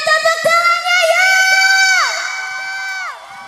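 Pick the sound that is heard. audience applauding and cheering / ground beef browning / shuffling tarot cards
audience applauding and cheering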